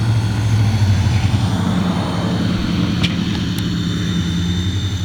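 A BAO NIU HC629W folding-arm quadcopter drone lifts off and hovers nearby, its propellers making a loud, steady buzzing whine with a low hum beneath and faint brief ticks partway through; no one speaks.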